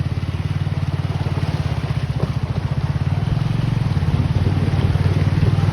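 A motorbike rides through flood water in heavy rain in Vijaynagar, Sambhajinagar, with water reaching the silencer. The engine makes a rapid, steady, close putter over a constant wet wash that grows slightly louder toward the end.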